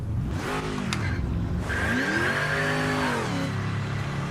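A race car in the sim racing game Project Motor Racing revs hard, its engine pitch sweeping up and down through several gear changes, loud and close with a brief high tick early on.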